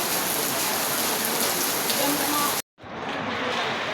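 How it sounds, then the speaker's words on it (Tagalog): Heavy rain pours down in a steady, dense hiss close by, briefly cut off for a moment before resuming just as strongly. "Ang lakas ng ulan dito."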